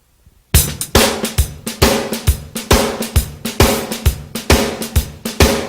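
A drummer plays a drum shuffle with the left hand doubling the right-hand triplet pattern, a loud, steady swung stream of cymbal and snare strokes with regular bass-drum accents, close and solo.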